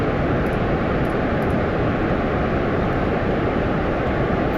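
Full-throttle rocket engine burn in Kerbal Space Program, a steady, loud, dense roar that holds unbroken and even throughout with no variation in intensity.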